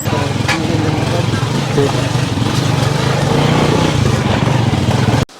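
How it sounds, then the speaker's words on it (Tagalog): A motorcycle engine drones steadily up close, a loud buzzing rumble that holds for several seconds before cutting off abruptly. "Lumulusot sa mga bahay yung motor"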